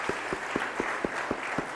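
Applause at a convention stage event, with rhythmic, evenly spaced claps standing out over a wash of softer clapping, fairly faint and distant.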